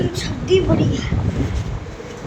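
Pigeons coo softly among a loft's flock, brief low murmuring calls mixed with wind noise while someone talks over them.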